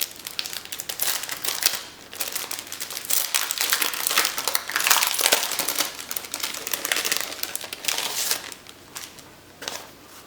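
Paper wrapping on a craft-supply package of handmade paper ephemera is unwrapped, giving continuous close, loud crinkling and crumpling with dense crackles, no talking.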